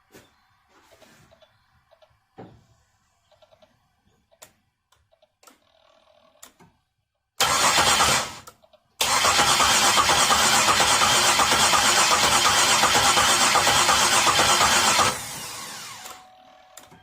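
Chevy Monte Carlo engine cranking on a start attempt after a no-crank, no-start fault: faint clicks and knocks give way to a loud, steady mechanical whir lasting several seconds, broken by a brief gap, then cut off abruptly.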